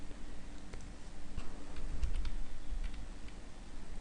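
Light clicks of typing on a computer keyboard come in short, irregular bursts, close and fairly quiet over a low steady hum.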